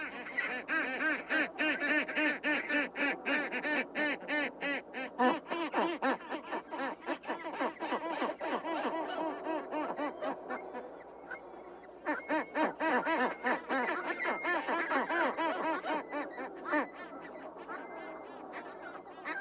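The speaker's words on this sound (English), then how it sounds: "Skuas are relatives of seagulls," Skuas call harshly near a penguin colony, a dense, continuous chorus of rapid squawking calls with brief lulls, moderately distant and filling the scene.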